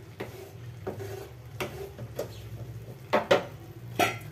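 Banana flower curry (mochar ghonto) stirred in a pan on a gas stove, a series of close spoon scrapes and clinks against the metal at irregular intervals over a low background hum.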